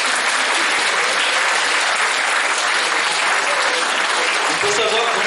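An audience applauds a concert performer, with dense, sustained clapping from a large crowd that holds steady and loud throughout, with no talk over it.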